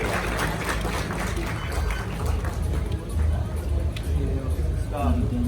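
An audience claps at a stage ceremony in Dera Jat honoring brave daughters, with sustained, fairly loud applause mixed with crowd murmur and a speaking voice over it.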